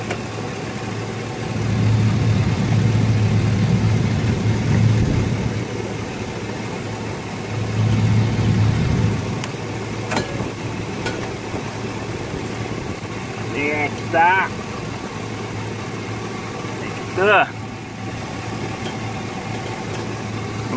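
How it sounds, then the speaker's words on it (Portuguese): A car engine idling with the air conditioning running, a steady low hum with two louder swells early on while people talk over it. "Motor ligado e ar-condicionado."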